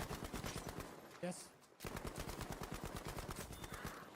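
Rapid SMG gunfire in Black Ops 6 Zombies, dense bursts of automatic shots running nearly throughout with a brief pause, mixed with game sounds and voices talking over it.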